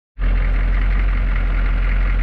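A diesel truck engine with a new exhaust runs at a steady, loud idle, starting abruptly and holding a deep, even rumble with no voices.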